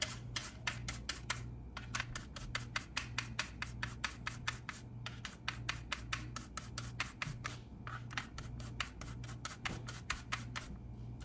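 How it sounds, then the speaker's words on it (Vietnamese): Jicama being grated by hand for northern Vietnamese fried spring rolls, a steady rhythmic rasping of fast repeated strokes, close and moderately loud, with a low hum underneath and no talking. "Sau đó mình bào nha,"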